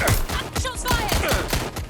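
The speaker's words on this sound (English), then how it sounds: "Shots fired!" Gunfire in Watch Dogs Legion, a rapid burst of about eight sharp shots in quick succession, loud and close over a rumbling game background.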